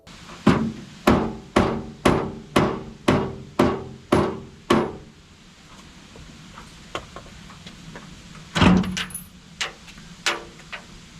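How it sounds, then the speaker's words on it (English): A small hammer taps a stuck metal bed door on a Suzuki Carry kei truck in a quick, even series of about ten sharp strikes, then pauses before a few more scattered taps. "I'm gonna give it a gentle tap."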